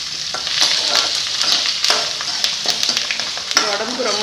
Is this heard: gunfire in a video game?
no